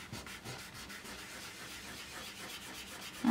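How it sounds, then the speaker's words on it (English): Firm, hard-pressed rubbing across drawing paper while shading white fur, a steady run of close, scratchy strokes with an even rhythm and no talk. "So I'm just rubbing quite firmly actually. I'm pressing quite hard."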